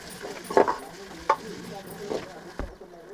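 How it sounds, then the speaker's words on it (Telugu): Ginger paste with onions and a little turmeric stirs in a hot pan for a chicken and potato curry, soft sizzling punctuated by a few sharp spatula scrapes and clanks, with no talk. "ఈ అల్లం పేస్ట్ కూడా పచ్చివాసన వేయదాకా వేయించుకోవాలి"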